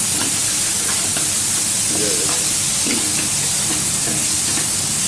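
Tomatoes frying in a pan for egg korma hiss with a steady, loud sizzle throughout, close up and without pause.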